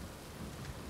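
Heavy rain pounding down during a tornado-producing storm off the Texas Caprock south of Post, a dense, steady roar with low rumbling underneath, loud and continuous with no talk.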